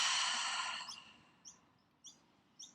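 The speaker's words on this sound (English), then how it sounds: "Exhale out the mouth." A long, steady exhale out through the mouth during a yoga breathing exercise, an airy rush that fades gradually, then a few faint, brief breathy sounds alone in a quiet room.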